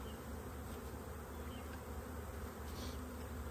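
A small honeybee swarm hums steadily in a lidded hive box, a continuous low buzzing drone heard faintly and alone, with no talking.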